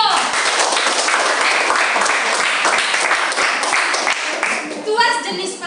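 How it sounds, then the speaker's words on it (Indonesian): A classroom of students claps for a classmate during a school lesson, a loud burst of brisk, close applause that fades out as a voice begins talking near the end. "Iya, tepuk tangan buat Dio."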